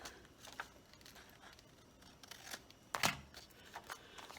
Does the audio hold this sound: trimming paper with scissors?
yes